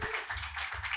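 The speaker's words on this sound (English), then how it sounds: "So can I get a round of applause for stab comedy?" Brief, faint applause from a comedy-show crowd at a stand-up night for Stab Comedy, a soft patter of clapping in uneven bursts with no talking.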